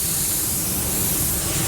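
A Porphis PRD-717 airbrush with a split tip nozzle lays down a quick coat in a steady, close, continuous hiss of spray that holds level throughout, with no voices.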